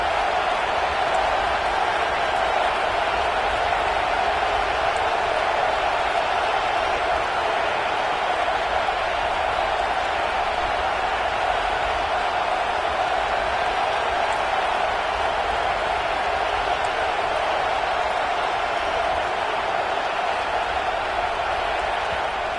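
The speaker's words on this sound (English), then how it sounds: "the crowd really making some noise now, trying to help out this defense to get this stop near the goal line" A stadium crowd at a college football game roars as the defense tries for a stop near the goal line, a dense, sustained wall of cheering and noise, steady and unbroken throughout.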